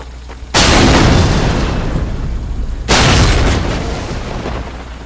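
Red barrels blowing up in a video game: two loud, close booms a couple of seconds apart, each swelling into a long rumbling roar that slowly fades.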